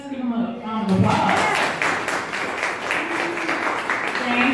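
Audience applause for artist James Cooper at an artist spotlight event in Buffalo, a steady wash of many hands clapping that swells in after a moment of talk and carries on at moderate loudness.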